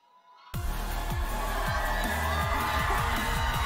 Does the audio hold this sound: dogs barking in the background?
no